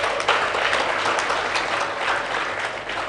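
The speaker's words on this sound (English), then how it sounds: "Then give the last and the biggest applause for all" An audience at an international public administration conference applauds steadily for a few seconds, a dense, even wash of many hands clapping with no voices standing out.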